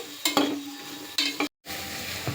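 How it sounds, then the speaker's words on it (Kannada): Okra frying in a little oil in a pressure cooker, with a couple of bursts of spoon-on-metal stirring and scraping over a soft background sizzle, close and quiet, with a short silent gap. "ಈ ಕುಕ್ಕರ್ಗೆ ಬೆಂಡೆಕಾಯಿ ಹಾಕಿ ಚೆನ್ನಾಗಿ ಸ್ವಲ್ಪ ಆಯಿಲ್ ಹಾಕಿ ಫ್ರೈ ಮಾಡ್ಕೊಳ್ತಾ ಇದ್ದೀನಿ"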